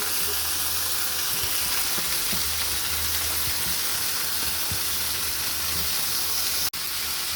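Beans, potatoes and onion stalks added to a pan of frying onions for a tilapia and vegetable dish, giving a steady close sizzle and hiss with faint stirring clatter throughout, no talk.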